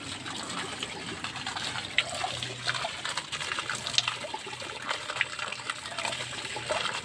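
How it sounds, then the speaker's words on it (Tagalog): Water from a motor pump installed without a tank runs in a steady trickling, splashing flow, continuous and fairly close throughout, with a few brief sharper splashes on top. "Yan, kumukuha na siya ng tubig."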